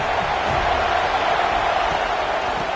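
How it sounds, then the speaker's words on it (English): Roaring stadium crowd at a college football game between SMU and Florida State, a dense sustained wall of cheering and noise that stays steady and loud throughout with no clear voices standing out. "This crowd ready to make its presence known."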